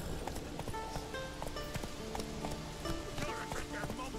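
A horse galloping in The Witcher 3, rapid rhythmic hoof clip-clops running continuously under game music and occasional speech.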